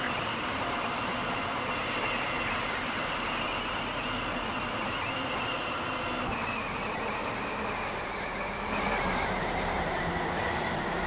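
A video game train travelling toward Millcastle Racecourse rumbles steadily along the track, a continuous droning roll with faint wheel squeal and a slight rise near the end.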